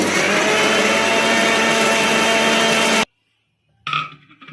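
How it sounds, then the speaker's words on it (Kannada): A mixer grinder blending roasted spices with a little water into a fine paste for spicy chicken chops, a loud, steady whirring roar that cuts off abruptly, then a short clatter. "ನೋಡಿ, ಈ ಥರ ನುಣ್ಣಗೆ ಗ್ರೈಂಡ್ ಮಾಡ್ಕೊಂಡಿದ್ದೀನಿ"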